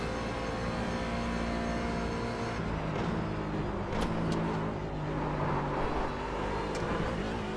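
Race car engine in the iRacing video game at Watkins Glen, a steady droning engine note with throttle changes and a shift in pitch midway, plus a few sharp transient clicks.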